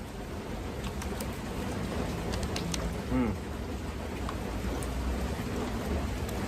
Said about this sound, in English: The rain, it's dying down a little bit more now, but man, it is still the vibe.